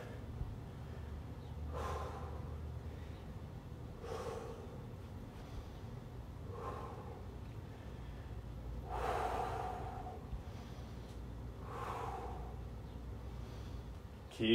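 During a home calisthenics mobility workout, heavy rhythmic breathing comes in sharp gasping exhales and snorts roughly every couple of seconds, faint and close over a low background hiss.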